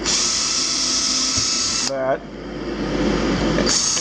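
An old power drill boring holes into air-dried maple or pine board for a wooden canteen, a loud continuous whine with a brief dip in pitch and level midway before it runs up again.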